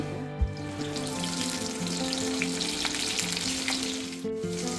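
Brinjal frying in a little hot oil with garlic in a pan for stuffed bharli vangi, a steady dense sizzle close by with occasional faint clinks and no talking.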